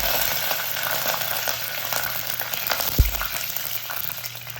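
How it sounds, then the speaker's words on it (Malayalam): Mustard seeds, dried red chillies and curry leaves fry in hot oil for a beetroot thoran, a steady bright sizzle with faint popping and one soft clunk of the pan near the end. "കടുകൊക്കെ പൊട്ടിക്കഴിഞ്ഞാൽ ഫ്ലെയിം കുറച്ചിട്ട് വേണം നമ്മൾ വറ്റൽമുളക് ചേർത്ത് കൊടുക്കാൻ"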